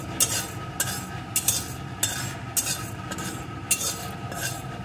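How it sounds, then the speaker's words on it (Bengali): Dry red chilli and panch phoron fry in a small amount of oil in a kadai, as a metal spoon scrapes the pan in repeated quick strokes over a faint background sizzle. "এখন অল্প আছে এই মশলাটা একটু ভেজে নেব।"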